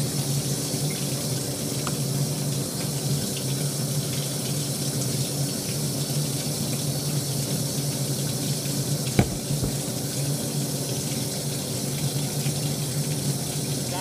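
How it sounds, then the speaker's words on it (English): Water from a sink tap runs steadily at room temperature, a constant broadband rush heard up close and alone for the whole stretch, with one brief knock partway through. "what you're gonna want to do is turn the sink on."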